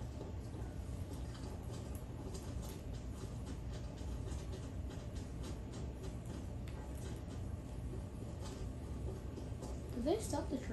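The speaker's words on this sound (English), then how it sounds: "Did they stop the train?" A train rumbles and clatters steadily in a Call of Duty game, with faint rhythmic rail clicks and a brief higher squeal near the end; people talk over it.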